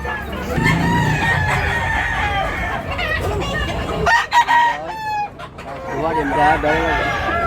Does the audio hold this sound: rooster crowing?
yes